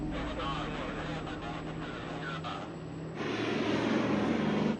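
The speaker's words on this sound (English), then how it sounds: "Cleared for takeoff. Set takeoff power, please." Aircraft engines on an Air Midwest flight spool up to takeoff power, a steady loud roar that swells noticeably louder partway through, with cockpit voices heard over it.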